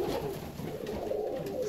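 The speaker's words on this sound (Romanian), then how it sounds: "Porumbeii sunt foarte voioși" Fancy ornamental pigeons kept together in a loft coo softly and continuously, a low, rolling murmur with no talking.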